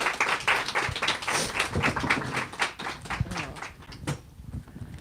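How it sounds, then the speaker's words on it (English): A burst of clapping from a small poetry-reading audience, brisk and fairly close, gradually thinning out toward the end. "Let's clap for Angel reading"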